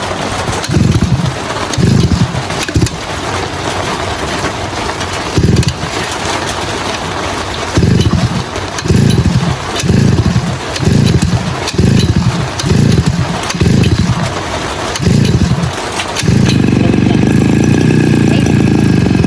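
A gasoline grass cutter engine runs close by, revving in a string of loud rhythmic bursts over a steady mechanical drone before settling into a continuous, louder run.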